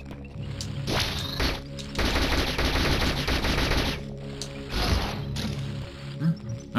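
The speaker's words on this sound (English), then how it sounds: "Press Y for rapid fire shots" Beam Burst rapid-fire shots in Metroid: Samus Returns, loud bursts of fast repeated blaster fire in several volleys with short gaps between them.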